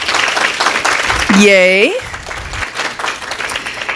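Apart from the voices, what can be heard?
congregation applause for the ground crew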